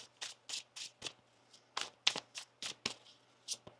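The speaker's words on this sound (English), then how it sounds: "One more shuffle here." Tarot cards are shuffled in a series of quick, crisp riffling bursts, close and fairly soft, with short pauses between them.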